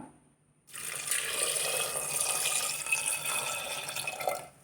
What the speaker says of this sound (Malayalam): ഇനി വെള്ളം ഒഴിച്ചു കൊടുക്കാം